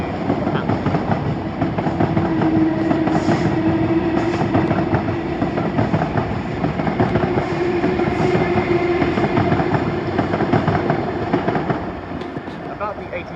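Train passing at Primrose Hill in London, a steady loud rumble with repeated clickety-clack of wheels over rail joints for over ten seconds, easing off at the end, with faint speech in the background.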